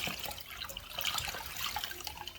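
Water is squeezed from a wet sponge during wall skim coating, a soft, faint, continuous trickling and splashing that lasts a couple of seconds with no voices.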